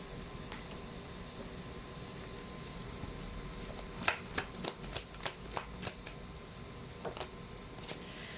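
Tarot cards handled as one is pulled, with about a dozen crisp, close card flicks and snaps in quick succession over a quiet room hum.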